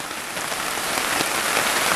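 Rain falls steadily on a surface, a bright continuous hiss dotted with individual drop taps, fairly close and with no talking.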